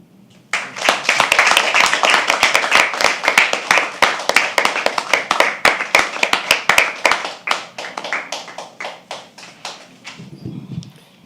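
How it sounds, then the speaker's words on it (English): Audience applause for a poet at a live poetry open mic at The Habitat, a dense burst of close hand claps starting abruptly, holding steady, then thinning into scattered claps with a murmur of voices at the end. "Can we properly have a round of applause for him?"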